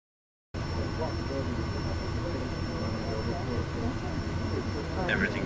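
A Kodiak 100 engine in Microsoft Flight Simulator 2020, a steady droning turboprop hum that holds level throughout a takeoff roll, with a brief chirping sound near the end.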